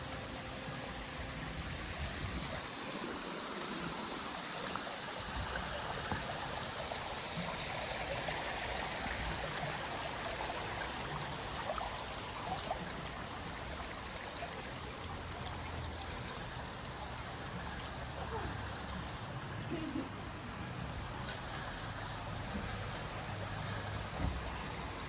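White Springs spring water at Glastonbury trickling continuously, a steady close splashing babble that stays even in level the whole time with no voices.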